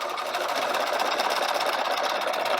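A sewing machine doing free-motion zigzag stitching on fabric grass for a 3D flower, a fast, steady mechanical whir with rapid needle chatter, close and continuous without talk.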